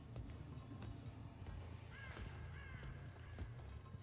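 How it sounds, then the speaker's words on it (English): A crow caws in the distance in the video game Dead by Daylight, two or three faint harsh calls over a low, steady ambient rumble with occasional small clicks. "Yeah, it sounds like a crow in the distance."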